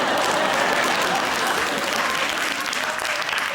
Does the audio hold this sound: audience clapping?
yes